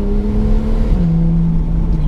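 A Porsche Targa engine revs loudly and close, its droning note dropping with a smooth gear change about halfway through, then carrying on steadily with no talking.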